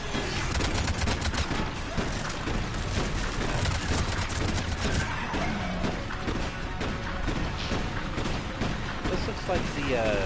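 Dense, sustained gunfire in Mass Effect 3: rapid overlapping shots and impacts crackle nonstop at close range, loud and busy throughout.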